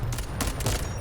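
Rapid gunfire in a shooting video game, a quick burst of several close, loud shots in quick succession with no talk.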